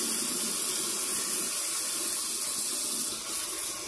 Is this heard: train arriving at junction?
no